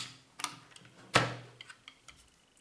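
Electric screwdriver driving a screw into the threads of a charger: a sharp mechanical click leads into a brief whir, with faint ticks and light handling noise in a quiet room.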